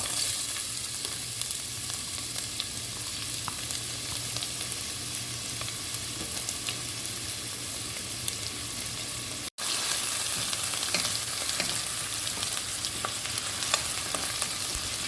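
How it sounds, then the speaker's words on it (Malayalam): Ginger and garlic frying in hot oil over a high flame, a loud continuous sizzle with faint stirring scrapes and one short break near the end. "ഇനി നമുക്കിതിലേക്ക് ഇഞ്ചിയും വെളുത്തുള്ളിയും നമുക്ക് ചേർത്ത് കൊടുക്കാം"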